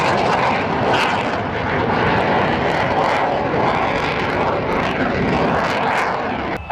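A display jet flies a very slow, high-alpha pass at the RAF Leuchars airshow, a loud, continuous engine roar that swells slightly and holds close throughout.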